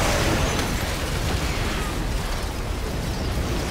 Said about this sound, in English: Literally exploding turrets everywhere.